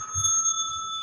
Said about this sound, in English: Yeah, ring that bell.